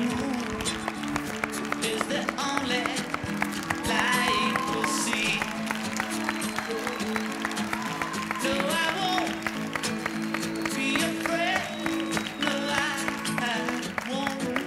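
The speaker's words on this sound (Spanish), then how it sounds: "Un aplauso para Marcelo Tinelli." A studio audience applauds Marcelo Tinelli as he comes onto a broadcast program hosted with Juan Alberto Badía. Dense, steady clapping fills the whole stretch at an even level, mixed with crowd noise, sustained musical tones and some voices underneath.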